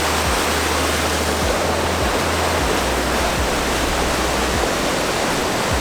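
A waterfall and river rush in a constant, loud, close roar of broadband water noise at Quarry Trails Metro Park in Columbus, with no voices.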